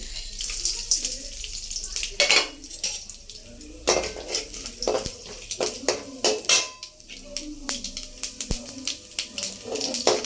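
Lentils crackle and spit in hot oil while tempering for a Tamil raw banana stir-fry, with irregular sharp pops over a steady sizzle, close up and with no talking.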